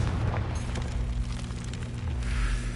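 Explosive spell effect from a wizarding action video game, a heavy low boom with a rumbling fiery burst that swells and fades over a few seconds, with no talking.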